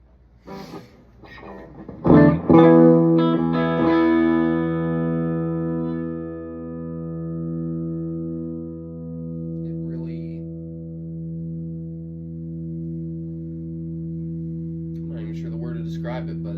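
An electric guitar runs through an Orange Rockerverb 50 MkII amp at high volume: a loud strummed chord rings out and sustains for many seconds with slow wavering decay, framed by brief picked notes.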